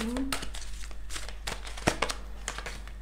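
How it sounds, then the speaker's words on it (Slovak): Tarot cards slid and laid out onto a table, giving a run of soft papery crinkles and slaps at an even pace, close and fairly quiet. "Ja si teda potrebujem najskôr všetky karty vytiahnuť na stôl"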